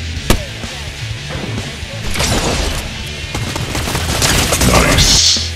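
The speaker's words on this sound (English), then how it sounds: "Go for the snipe and then a quick weapon switch." Fortnite match with a sharp sniper shot crack early on, followed by busy game action, weapon handling and rising combat noise, including a bright burst near the end.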